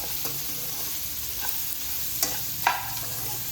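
Bitter gourd frying in a pan, a steady soft sizzle throughout with a few faint scrapes of stirring, close and alone without talk.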